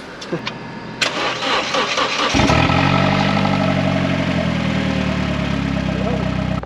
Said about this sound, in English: The engine does sound alright.